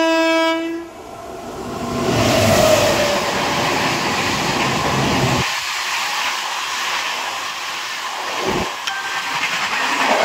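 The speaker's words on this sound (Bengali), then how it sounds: "এখন আসছে 12322 মুম্বাই থেকে হাওড়াগামী, হাওড়া মেল।" The 12322 Howrah Mail express from Mumbai passing close by: a loud horn blast opens, then a sustained roar of rolling wheels and rumbling wagons with clattering rail noise that stays strong throughout.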